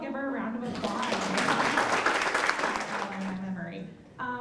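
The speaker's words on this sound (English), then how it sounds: "let's all give her a round of applause" A round of applause from the audience at a workforce opportunities event fills the middle of the passage as a dense, steady clatter of many hands, with speech before it and talk resuming at the end.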